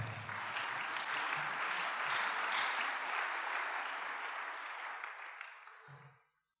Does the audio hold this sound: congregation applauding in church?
yes